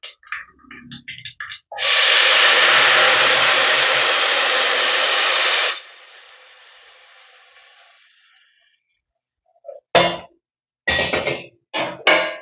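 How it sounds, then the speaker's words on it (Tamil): Coconut milk poured into a hot pan of oil tempering for coconut lemon rice gives a loud, sudden hissing sizzle lasting about four seconds, fading to a quieter simmer, with short clattering bursts before and after. "இப்போ தேங்காய் பாலை சேர்த்துருவோம்."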